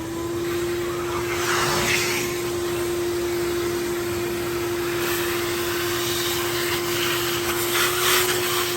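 A shop vacuum whines steadily up close, sucking up metal shavings inside a 2021 Sprinter van, with a constant tonal drone and faint rattling pickup and no talking.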